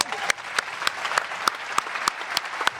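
Applause from an audience at a college men's basketball coach's press conference, a steady wash of clapping with sharp individual claps standing out, fairly close and alone without talk.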